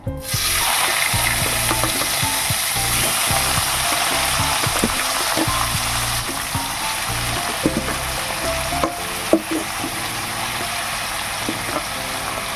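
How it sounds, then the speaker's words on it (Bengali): Boiled taro leaves dropped into hot oil with fried hilsa fish heads, a loud steady sizzle and crackle running throughout, with occasional scrapes and clinks of a stirring spoon against the pan. "সেদ্ধ করে রেখেছিলাম কচুর শাকটা সেগুলো আমি এবার তেলের ওপরে দিয়ে দেবো"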